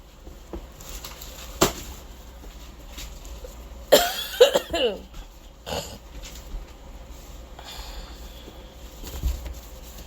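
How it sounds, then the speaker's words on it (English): A single sharp cough cuts through a quiet room, followed by a short raspy burst of throat noise and a few faint knocks nearby. "Something making me cough."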